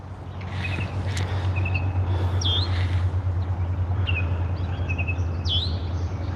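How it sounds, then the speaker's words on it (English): Red-winged blackbirds calling beside a lake, short bright chirps and trills repeating every second or two over a steady low hum of outdoor background noise. "It's a red-winged blackbird I hear"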